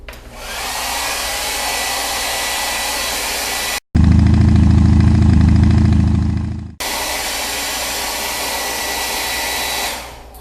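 A hair dryer blowing to dry paint on artwork, loud and close with a steady roaring whoosh, cutting out briefly and then running on again before shutting off.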